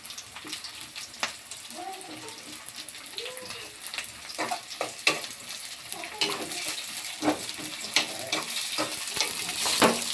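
Chopped tomatoes and coriander cooking in oil in a pan, a close, continuous sizzle broken by scraping stirs and clatters, with faint voices in the background.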